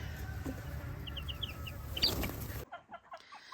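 Young chickens in an outdoor pen give soft, high peeping calls and a few clucks at a moderate distance, over a low background hum that suddenly drops away near the end.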